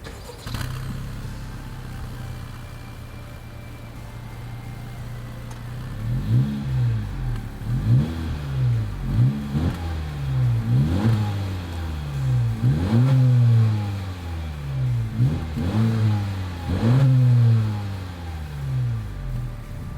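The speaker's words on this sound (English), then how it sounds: "As always, here is that exhaust clip." A 2021 Honda Civic Hatchback engine idles and then revs repeatedly, about eight throaty exhaust blips rising and falling in a steady rhythm, close and loud, recorded from behind the car.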